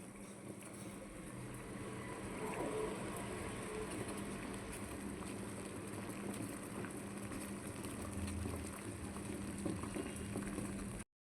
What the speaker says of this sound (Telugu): మరిగిపోయింది కదండి ఇప్పుడు మనం స్టవ్ ఆఫ్ చేసేసుకుందాం